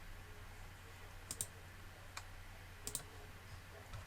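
A computer mouse gives a few sparse, crisp clicks over a quiet room hum while a spreadsheet is being filtered, with pairs of quick clicks separated by pauses.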